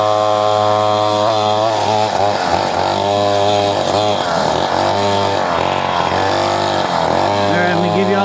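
Trailmaster 125 mini bike, an inexpensive Walmart model, revving hard as it is ridden, its small single-cylinder engine buzzing loud and close with rising and falling pitch throughout, with a voice occasionally mixed in.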